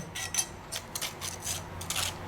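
A trowel spreads a very thin putty coat of Conproco Matrix repair mortar, giving faint, repeated scraping and rubbing strokes in an irregular rhythm against low background hum.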